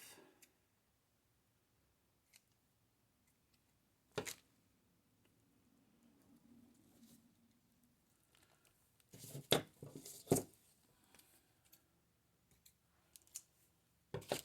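Scissors snip string off a Dollar Tree deco mesh wreath in a quiet room, with a few isolated crisp cuts early on, then a cluster of sharp snips and rustles near the end.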